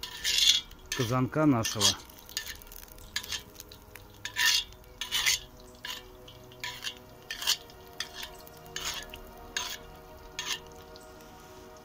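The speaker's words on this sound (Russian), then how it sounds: "Масло наше зашкварчало. Сейчас его перемешиваем и борта смазываем" Oil sizzles in a kazan over a campfire for chicken, with a utensil stirring and scraping it in a loud burst at the start, then intermittent clinks and scrapes against the pot under a steady frying hiss; one brief phrase is spoken.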